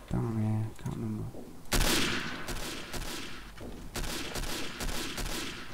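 Gunfire from Day of Defeat, a World War II shooter game: dense, loud bursts like machine-gun fire crackle repeatedly over several seconds after a short stretch of voice at the start.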